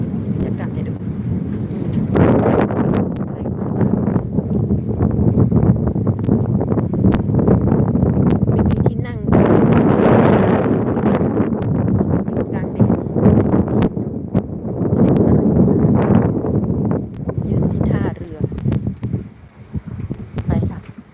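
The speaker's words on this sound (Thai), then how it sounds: "สวยมากๆ วิวกับบรรยากาศ แต่เสียทีลมแรงไปหน่อย" Strong wind buffets the microphone beside the Ebensee river, a steady low roar with gusty surges throughout, as someone talks over it.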